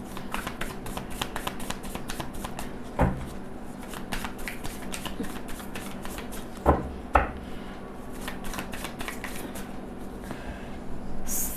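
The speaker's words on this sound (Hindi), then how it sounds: "जब भी कार्ड शफल करो उनका ध्यान कीजिए" Tarot cards being shuffled by hand, a steady run of soft papery riffles and flicks with a few sharper taps and snaps, close and fairly quiet, with no talking.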